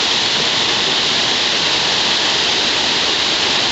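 A waterfall spilling into a rocky grotto along a creek, a constant broadband rush of falling water that stays steady and loud throughout, with no voices over it.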